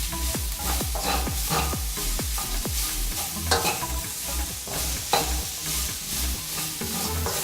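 Broccoli leaves, stems and crowns stir-fried with shrimp in a hot pan for a Bombay-style stir fry: steady sizzling under a quick, rhythmic run of close utensil scrapes and stirs, no talking.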